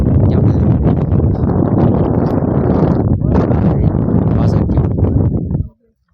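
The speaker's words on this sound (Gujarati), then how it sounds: "અહીંયા પવન આવ્યો મિત્રો અત્યાર સુધી પવન નતો આવતો" Strong, steady wind on Pavagadh hill buffets the microphone in a loud continuous roar with gusty rumble, then cuts off abruptly near the end.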